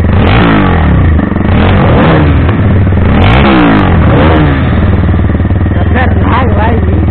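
Motorcycle engine revving hard on a ride, a loud close rasping roar rising and falling in repeated throttle pulls, with someone talking excitedly over it.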